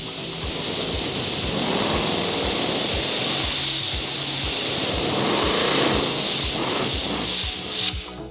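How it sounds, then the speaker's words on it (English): Compressed air from a workshop airline blasts a polishing pad on a DA polisher clean during paint correction on a 2024 Renault Clio, a loud continuous hiss with a steady pulsing throb that cuts off sharply at the end. "I'm just going to use the airline."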